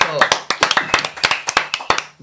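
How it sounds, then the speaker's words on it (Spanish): At a lively live event, a small group claps in quick, sharp, rhythmic bursts close to the mic, with voices heard through the clapping. "¡Un aplauso!"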